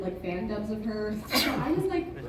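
A sneeze bursts out once during a convention panel, a sharp broadband burst in the middle of ongoing talk, with voices continuing before and after it.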